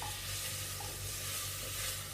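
Sauce stirred into a spicy Asian soup in the pot, a steady close swishing under a low simmering sizzle, with no talk.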